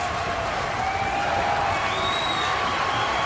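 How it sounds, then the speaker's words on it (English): Arena crowd in the wrestling video game WWE 2K25 roars steadily, a dense continuous wash of cheering that stays loud throughout with no break. "This crowd is electric"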